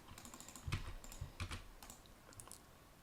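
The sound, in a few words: typing a project name on a computer keyboard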